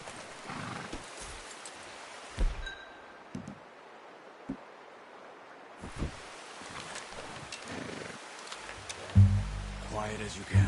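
Scattered hoof thuds and clip-clops from a horse in Red Dead Redemption 2 amid rustling, with a snort or whinny and people talking in between.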